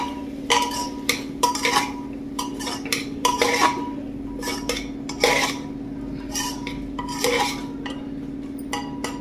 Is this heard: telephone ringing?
no